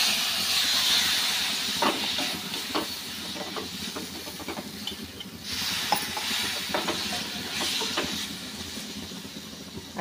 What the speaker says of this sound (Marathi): परतून घेऊया आपण आणि थोडासा पाण्याचा शिपका द्यायचा आहे.